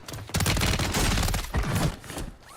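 Close, dense burst of rapid gunfire in Warzone, a continuous rattling fusillade that swells and fades over a couple of seconds.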